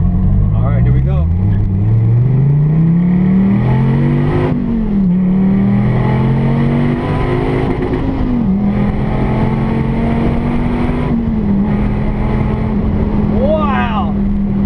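A 2014 Dodge Viper GTS engine roars as it accelerates hard through several gear changes, side exhaust outlets, pitch climbing and dropping between shifts, loud and continuous throughout.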